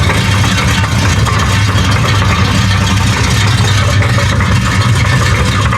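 An old car rolling in fourth gear makes a terrible noise from the rear: a loud, continuous, rough engine-and-drivetrain roar with heavy low rumble and harsh grinding noise throughout, close by.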